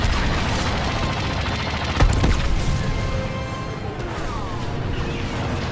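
Starfighter blaster fire in Star Wars Battlefront II, a dense rapid stream of laser shots and impacts over continuous engine roar, with one sharper burst partway through.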